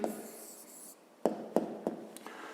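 A pen writes out a maths answer by hand on paper, making soft continuous scratching followed by several quick taps and short strokes, close and quiet, with no talking.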